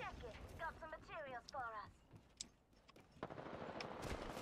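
Rapid gunfire in the Apex Legends Arena mode, bursts of shots crackling at mid distance beneath a person's talk at the start, then a denser volley building toward the end.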